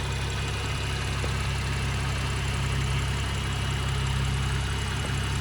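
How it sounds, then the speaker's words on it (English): A BMW M135i engine idling with the bonnet open, a steady low hum and faint mechanical ticking, even and unchanging, with no voices. "And the engine's running, so"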